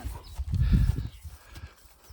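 A horse at a trail competition walks with soft, muffled hoof thuds, a heavier cluster of steps followed by a few lighter ones, close by on soft ground.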